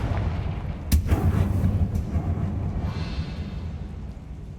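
Explosive Confringo spell blast in Hogwarts Legacy: one sharp, loud boom followed by a deep rumbling roll that slowly fades, with no voices.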